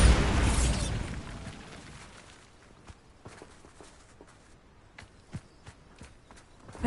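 The Bombarda spell in Hogwarts Legacy bursts with a loud, deep explosion that fades over about two seconds, followed by scattered faint footsteps and small thuds.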